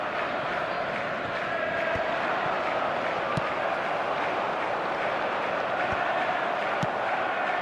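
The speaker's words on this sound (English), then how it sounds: "the crowd are reacting to that now" Steady stadium crowd roar from an eFootball 26 match, a dense continuous wash of cheering and murmur with occasional sharp thuds, with commentary-style talk faintly mixed in.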